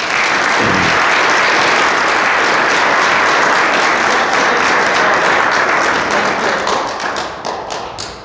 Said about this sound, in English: we should give them another round of applause